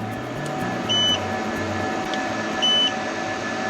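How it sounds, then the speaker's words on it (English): Two short, clear electronic beeps from a NEEY active balancer being installed in a Jakiper battery, evenly spaced about a second and a half apart over a steady background hum. "We've got the first beep."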